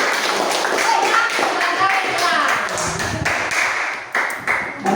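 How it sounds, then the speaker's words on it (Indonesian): Classroom of fifth-grade children at an elementary school clapping together for a group, a dense patter of many small hands with a few sharper claps standing out, children's voices and chatter mixed in throughout. "tepuk tangan kelompok tenang."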